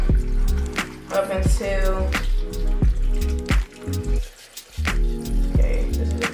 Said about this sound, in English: You're gonna add the bottled water